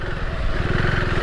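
A KTM 390 Adventure R motorcycle engine hums steadily and close on an offroad track, a continuous low throb without pauses.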